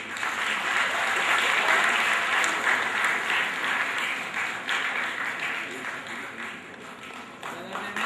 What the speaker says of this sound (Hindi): तालियां कम नहीं होनी चाहिए।